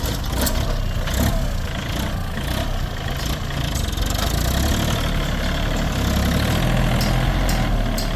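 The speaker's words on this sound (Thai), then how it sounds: "เครื่องยนต์เป็น 3 สูบไดเล็กนะครับ" A three-cylinder diesel engine on a 2021 John Deere 3036E 36-horsepower tractor idles steadily nearby with a low, rumbling, even chug that holds constant throughout.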